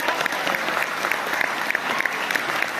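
An audience at a spring poetry festival claps steadily, a dense, close wash of applause that holds evenly throughout.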